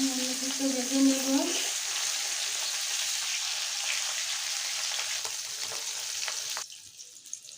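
Bhetki fish frying in hot oil in a wok, a loud steady crackling sizzle that carries on for several seconds, with a brief voice near the start before the frying drops away at the end.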